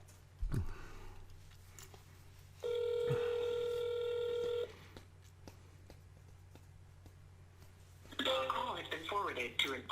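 An automatic dialer places a phone call: a quick burst of touch-tone beeps, then a steady two-second dial tone, with a voice speaking briefly before and after.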